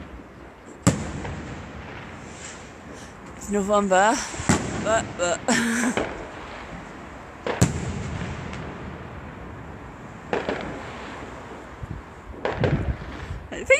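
Fireworks go off outdoors at night in November, sharp bangs and crackling bursts scattered near and far, some sputtering and whistling, while a person speaks briefly between them.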